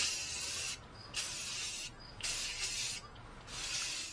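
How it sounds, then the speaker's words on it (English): Bursts of Rust-Oleum aerosol spray paint hissing from a can onto a vintage TV stand, four separate sprays of about a second each with short quiet pauses between them, fairly close. "the spray paint I'm using is just from Rust-Oleum"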